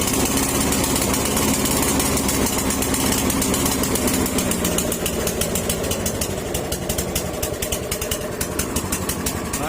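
Snapper lawn mower engine with a misfiring, hard-starting fault, running loud and close at raised throttle, a steady rapid mechanical drone with a dense chattering pulse throughout.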